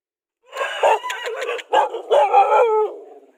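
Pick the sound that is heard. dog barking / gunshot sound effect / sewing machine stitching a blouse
dog barking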